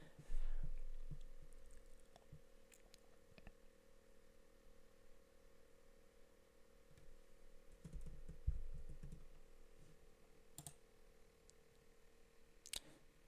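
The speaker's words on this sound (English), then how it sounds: "Seems like the mic likes picking up my mouse clicks." Computer mouse clicks, quite loud, picked up by a desk microphone: sparse sharp clicks scattered over a low steady room hum, with a couple of heavier thumps.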